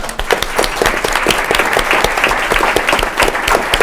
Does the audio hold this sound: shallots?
no